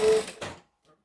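A sewing machine chain stitching makes a short mechanical whir of about half a second, followed by a faint click and then quiet.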